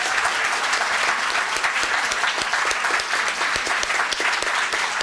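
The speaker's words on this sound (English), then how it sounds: "Please welcome her with an applause." An audience breaks into sustained, dense applause welcoming an honored guest at a lecture on Italian literature, steady and fairly loud with no talking over it.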